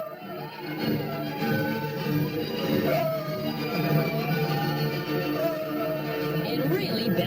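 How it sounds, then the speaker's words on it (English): A quirky family dog howling and grumbling in a drawn-out, wavering tone, fairly close and steady, with faint voices or background sound underneath. "We've grown to be pretty comfortable with Teddy's little weird grumble, growl, howl thing"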